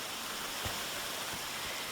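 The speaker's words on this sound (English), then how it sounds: "this gorgeous stream of faded aqua and brown stone" A mountain stream running over aqua-tinted brown stones gives a steady broadband rush of flowing water, continuous and fairly close, with no voices.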